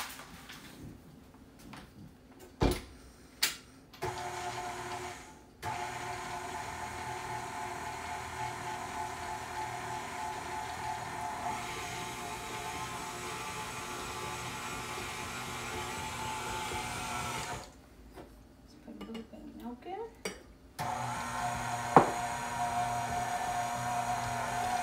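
Electric mixer whirring steadily through box cake batter with sugar in a bowl, a close continuous hum that runs for several seconds, stops briefly, then starts again, with a few knocks in between.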